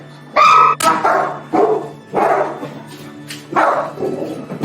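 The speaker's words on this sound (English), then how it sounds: "we have a 70-pound hound who is doing all the barking" A large 70-pound hound barks in loud, deep, close bursts, about six to seven separate barks in an uneven rhythm with brief gaps, indoors at an animal shelter.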